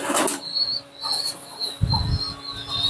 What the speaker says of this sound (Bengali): দুইটা কবুতর ছাড়ছি আসলে